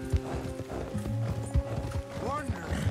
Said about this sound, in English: Come on, horse. You gotta ride faster than that.